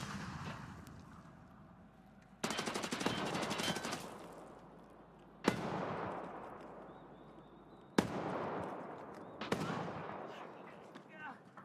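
Gunfire rings out in the Escape from Tarkov Arena shooter game, a few loud, sharp shots or short bursts, each followed by a long echoing decay, spaced a few seconds apart, with a voice talking between them.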